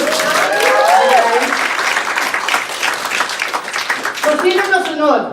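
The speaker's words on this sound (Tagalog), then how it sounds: "Palakpakan natin si Irene." Loud applause from a seminar audience, steady clapping throughout with a voice talking over it at the start and again near the end.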